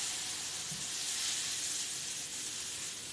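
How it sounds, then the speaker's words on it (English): Tofu steaks sear in a frying pan with a steady, close hiss and sizzle of hot oil that holds constant throughout, with no speech. "So while you're frying it, or searing it in the pan"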